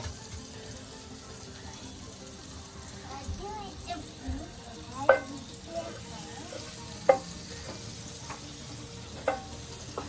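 Butter melts in a hot pan for homemade pizza, giving a soft, steady sizzle with occasional sharp clinks of a utensil against the pan, while someone talks quietly in the background.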